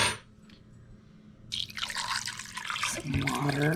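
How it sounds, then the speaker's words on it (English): Water pours into a cooking pot for a fox squirrel stew, a quiet start giving way to a loud, steady splashing fill that runs to the end, with nobody talking. "some water to cook it in"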